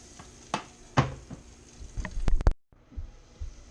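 Battered onion rings drop into hot grease after a walleye catch, with splashes and clunks and a crackling sizzle, then a sudden cut and a quieter steady fry.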